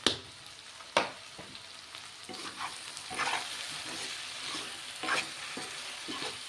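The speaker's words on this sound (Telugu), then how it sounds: "దీన్ని ఇలా 2 నిమిషాలు ఇలాగా ఫ్రై చేసుకుందాము." Raw prawns and ash gourd fry with cumin, coriander and garam masala in a pan as a spoon gives several sharp scraping strokes over a soft, steady sizzle.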